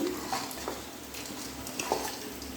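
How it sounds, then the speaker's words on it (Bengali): Red lentils fry and get stirred with onions and spices in a pan for papaya dal, a steady sizzle with scraping stir strokes and faint utensil clinks running throughout. "এবারে এই পেঁয়াজের সঙ্গে ডালগুলো এক মিনিট মতো একটু ভেজে নিতে হবে"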